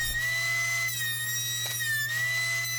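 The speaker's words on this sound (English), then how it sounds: "the next step was to run everything through the thickness planer" A thickness planer running maple boards gives a steady, loud high-pitched whine over a low constant motor hum, with a brief dip partway through.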